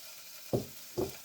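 Two short sizzling bursts as quartered small potatoes hit hot oil in a pan, close and moderately loud, over a steady low frying hiss.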